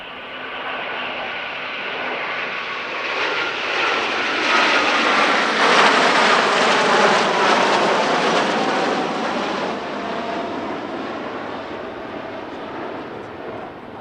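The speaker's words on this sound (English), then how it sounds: "Italy's primary combat aircraft now, the F-2000A Typhoon, which entered service in 2004." An Italian Air Force Eurofighter F-2000A Typhoon jet flies past at an airshow, a loud broad roar that swells to a peak midway and slowly fades as it passes, with no talk.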